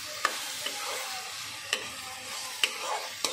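Green amaranth greens with coriander leaves fry in a pan, a steady close-up sizzle broken by a few sharp scrapes and knocks of a spatula as they are stirred.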